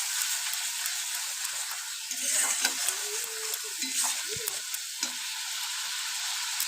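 Masala with chili powder frying and being stirred in a pan for a Bengali mustard pabda fish curry, a constant close hiss with a run of scraping strokes in the middle.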